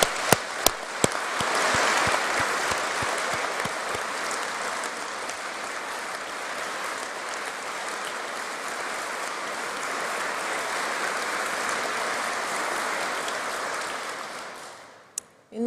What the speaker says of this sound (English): Can we give you a huge round of applause?